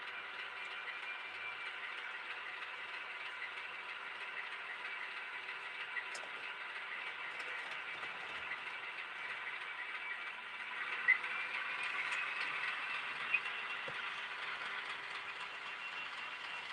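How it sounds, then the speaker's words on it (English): HO or Z scale model train running on a layout track, a steady soft rolling rattle and hum with faint clicks, continuous and fairly quiet with no talk. "now I'm running trains"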